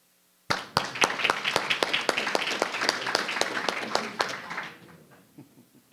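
A modest crowd at a school board meeting claps for a coach, the individual hand claps sharp and distinct, starting abruptly and thinning out into scattered claps before fading near the end.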